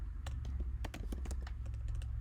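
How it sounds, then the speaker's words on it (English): Fingers tap a computer keyboard in an irregular burst of quick, crisp keystrokes, close and fairly quiet over a low steady hum, with no talking. "Sorry about my typing."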